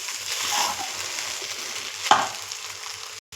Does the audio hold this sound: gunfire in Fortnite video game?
no